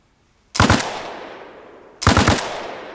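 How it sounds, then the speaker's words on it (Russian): The player's own weapon fires two short bursts in Arma Reforger, each a loud, close rattle of about three rapid shots followed by a long fading echo, spaced about a second and a half apart. "Это я стреляю."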